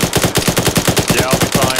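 Rapid automatic gunfire in Arma 3, a loud, close, evenly paced stream of about twenty shots that never pauses.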